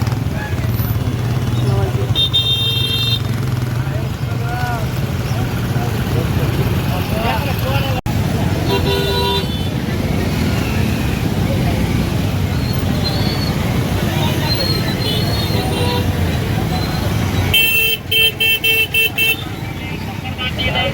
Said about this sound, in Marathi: इकडे बघा किती ट्रॅफिक झाली आहे।